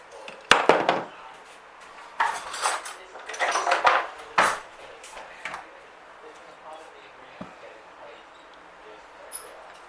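A spoon mixes instant coffee into boiling water in a small dish or cup, giving clattering scrapes and clinks of metal against the container in irregular bursts, close and moderately loud, then fading to quieter scrapes.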